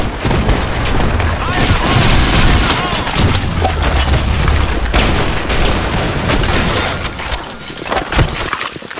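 A grenade explodes in the Blackshot shooter game, booming blasts and rattling gunfire rolling through a loud, dense mix with game voices.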